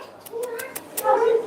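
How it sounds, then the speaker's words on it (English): A cat in a cat café meows in a drawn-out, nasal call near the end, after a few short rustling clicks; fairly close and moderately loud. "Oh my goodness, look at all the cats here."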